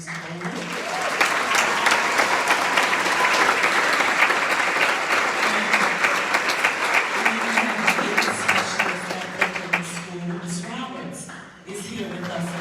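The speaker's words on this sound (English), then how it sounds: "I want you to give a round of applause to Mr. Doke." Sustained applause from a large crowd at an orchestra concert, loud and steady for most of the time, tapering slightly toward the end.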